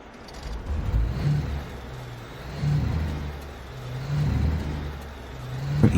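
A truck engine in the Alaskan Road Truckers video game starts and revs, a steady mid-range drone that rises and falls in several swells over a few seconds, loud and alone with no voices.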